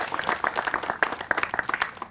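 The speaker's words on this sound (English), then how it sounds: "give yourself a round of applause" A room full of people at a county government meeting clap together, with crisp individual hand claps standing out in a busy, even patter that runs for about two seconds.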